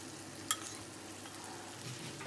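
Guanciale frying in a pan for carbonara, a low steady sizzle with one brief sharper crackle near the start, faint and continuous with no talk.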